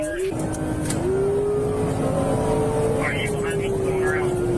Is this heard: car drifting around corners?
yes